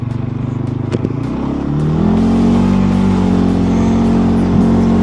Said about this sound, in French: c'est une voiture qui arrive à Donf.